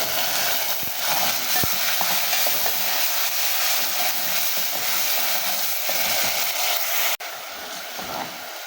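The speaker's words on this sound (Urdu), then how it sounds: "لہسن ادرک گولڈن ہو گیا، اب ٹماٹر ڈال دیں۔" Tomatoes stirred in hot oil over golden garlic and ginger while making murgh cholay, giving a steady close sizzle and frying crackle with scraping stir strokes throughout, a brief sharp knock near the end.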